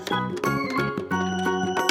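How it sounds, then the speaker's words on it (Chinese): A Peppa Pig toy gas stove plays its electronic stir-frying effect, a bright, tinkly synthesized melody of repeated chiming notes, fairly loud and close, with no talking over it. "这是炒菜的声音"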